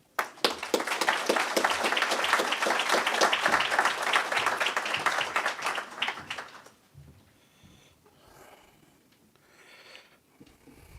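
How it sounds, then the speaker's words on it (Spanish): A crowd at a formal government ceremony in Mexico applauds steadily for several seconds, dense hand clapping that stops abruptly and gives way to faint room noise and shuffling. "Por favor, un aplauso."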